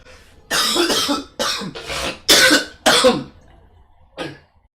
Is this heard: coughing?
yes